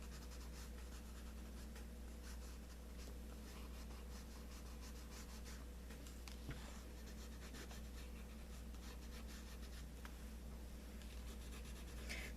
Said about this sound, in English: I'm painting with these colored pencils rather sloppily